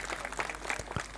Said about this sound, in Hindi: एक बार आप अपने लिए जोरदार तालियों से स्वागत करें